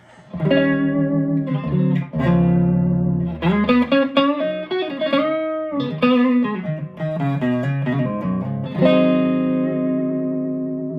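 Clean electric guitar through a 15-watt Luna prototype amp, with a warm, round neck-pickup tone, played alone as chords and melodic lines, steady and fairly loud.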